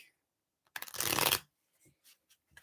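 Tarot cards being shuffled in one loud, dense riffling burst lasting about half a second, followed by a few faint soft handling sounds and near silence.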